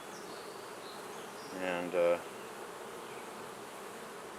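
Honey bees buzz around a hive while a beekeeper adds a quilt box and top entrance, a steady low hum running throughout, with a brief spoken word in the middle.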